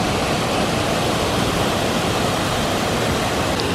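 A waterfall inside a hotel lobby pours steadily, a dense, even rush of water filling the space with constant broadband noise and no other sounds standing out.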